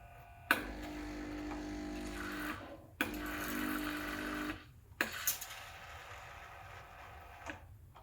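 The steam wand of a Breville Barista Touch BES880 espresso machine purging itself, with loud hissing bursts of steam separated by short pauses, then a softer mechanical hum and faint clicks.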